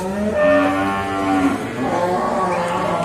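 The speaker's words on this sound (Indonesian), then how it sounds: "Yang ini adalah sapi pegon" Cattle at the Sukorejo livestock market in Kendal, Indonesia, including a crossbred Pegon cow; a loud, drawn-out moo with harmonics carries over the busy market din, followed by further lowing.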